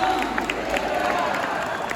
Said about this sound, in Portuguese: Aplauda Nossa Senhora. Viva Nossa Senhora!